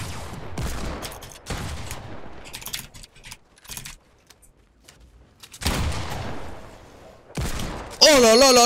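Desert Eagle gunshots in Fortnite, heard as several loud bursts of gunfire spaced through the moment, mixed with game effects and a rising synthetic tone at the end.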